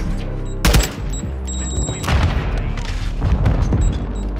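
Grenade explosion in the video game Modern Warfare 2, a loud close boom followed by further blasts and rumbling gunfire over a busy battle background.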